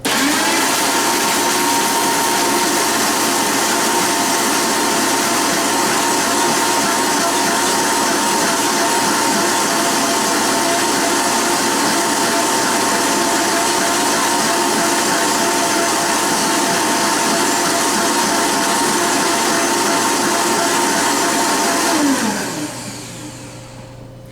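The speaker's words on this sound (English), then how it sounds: "you're going to stop blending when you can hear it go smoothly" A blender crushes ice for a strawberry daiquiri, whirring steadily at high speed for over twenty seconds, a loud continuous grinding drone, then winds down abruptly at the end.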